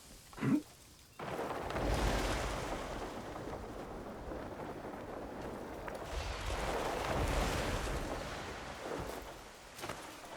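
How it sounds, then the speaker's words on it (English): Double waterfall in Crimson Desert, a steady broad rushing roar of falling water that swells and eases, heard alone without talk. "double waterfall."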